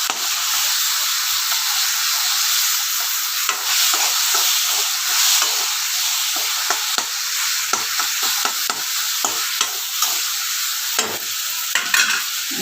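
Onion and tomato fry in a pan while being stirred, a constant bright sizzle broken by frequent scraping and clacking strokes, close and fairly loud.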